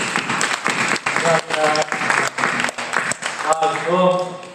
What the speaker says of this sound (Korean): 우리 환영의 박수 한번 하시죠.